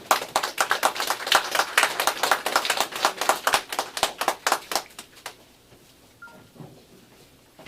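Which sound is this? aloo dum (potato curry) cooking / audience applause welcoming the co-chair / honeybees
audience applause welcoming the co-chair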